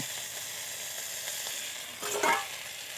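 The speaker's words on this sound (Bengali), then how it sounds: "আমি যে কাজু চারমগজ পোস্ত তিল বেটে রেখেছিলাম সেটা দিয়ে ভালো করে কষিয়ে নেব" A paste of ground cashew, melon seed, poppy seed and sesame fries in a pan while being stirred, a soft continuous sizzle that swells briefly into a louder scrape and hiss near the end.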